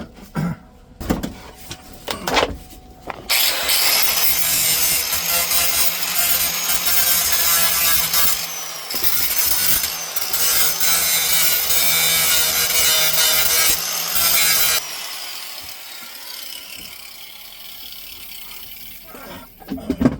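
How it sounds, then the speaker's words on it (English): An angle grinder works a metal floor pan on a 1988 Ford F250, a loud sustained harsh grinding that runs for about twelve seconds with short dips, framed by clanks and handling noises before and after. "I'm just gonna do some grinding there for a minute."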